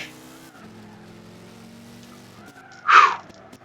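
A car drifting in Gran Turismo 6 under a steady engine drone, ending in a sharp, loud tire squeal near the end.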